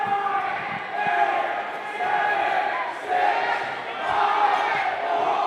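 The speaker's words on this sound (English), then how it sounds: "You're hearing the Olympus Titans crowd down to 5 seconds" Home crowd noise at a high school boys basketball game as Olympus leads Davis late in the third quarter, a loud surging roar of voices that swells and dips in waves, with yells rising out of the din.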